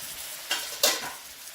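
Saltfish is stirred into callaloo in a hot pan, producing two quick scraping swishes over a soft sizzle.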